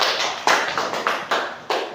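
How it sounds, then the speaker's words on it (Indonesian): A classroom of students claps for a student group, several quick sharp bursts of hand claps close by in an uneven rhythm, with no talking. "Kita beri aplaus untuk kelompoknya anak."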